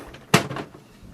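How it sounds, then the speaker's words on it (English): The plastic ink cartridge access door on an HP OfficeJet Pro 8035 printer is lifted open with a single close, sharp clack and a brief rattle, then quiet. "open the front door like this, and ink cartridge chamber door we have to lift it up"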